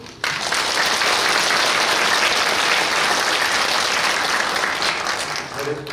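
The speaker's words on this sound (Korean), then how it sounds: "우리 박수 한번 더" Steady, loud applause from a crowd at a church retreat, sustained for several seconds before tapering slightly at the end.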